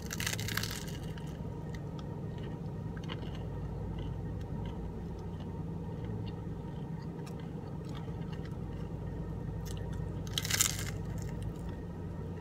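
A Taco Bell taco is eaten inside a car, with a sharp crunchy bite at the start, another near the end, and quiet chewing and faint rustling between them.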